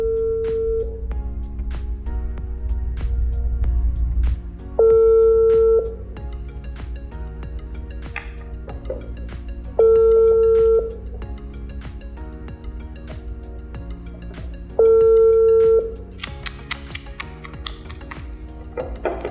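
Phone dialled on loudspeaker during a talk show, giving repeated electronic ringback tones every five seconds or so, with faint clicks and taps between them, fairly loud and close, no talking.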